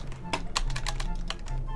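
Quick, uneven clacks of a computer keyboard picked up by a gamer's microphone, close and distinct over a low steady hum, with several sharp taps clustered in short runs.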